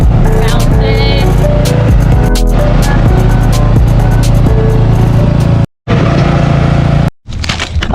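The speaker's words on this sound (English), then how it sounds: "we're gonna take the lawnmower for a spin" A riding lawn mower being driven along a sidewalk gives a loud, steady engine roar close to the recorder, with rattling and a couple of brief dropouts near the end.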